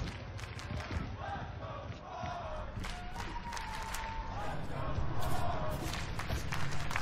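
Large live esports arena crowd at an Overwatch League match between Hangzhou Spark and London Spitfire, a dense roar of cheering and shouting that swells louder toward the end.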